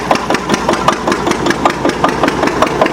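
A Witte diesel generator set runs steadily after a cold start, its engine thumping in a fast, even rhythm of close, loud knocks with a mechanical clatter and no talking.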